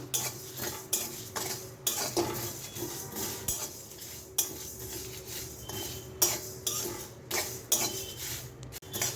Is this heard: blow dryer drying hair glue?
no